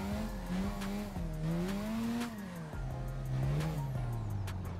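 Drift kart in Assetto Corsa sliding at high speed, its tires squealing and skidding under a loud, wavering high-revving engine whine that rises and falls steadily throughout.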